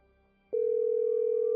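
A single loud, steady electronic phone message beep tone starts abruptly after a quiet moment and holds unbroken to the end.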